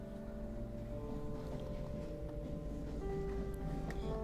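A loud train passes outside, a continuous low rumble with steady droning tones that holds throughout, no voices over it.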